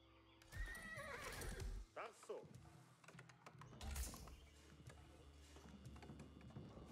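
Horses neigh and whinny repeatedly amid clip-clopping hooves as cavalry units move in the Age of Empires 4 video game, loud and close over a busy layer of game effects and clicks.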